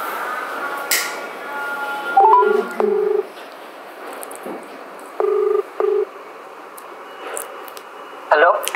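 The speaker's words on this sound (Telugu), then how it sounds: "ఇప్పుడు మనం శిరీష వాళ్ళ అసిస్టెంట్ కాల్ చేద్దాం." A phone keypad beeps out a number in small clusters of electronic dial tones, close and clear, with a quiet room hum and a few light taps between the presses.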